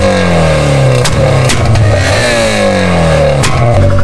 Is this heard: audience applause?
no